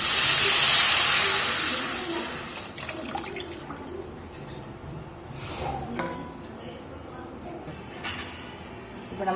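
Water is poured into a pan of sautéed onions for rava upma, bursting into a loud hissing sizzle of steam that fades over a couple of seconds into a quieter simmer with light clinks.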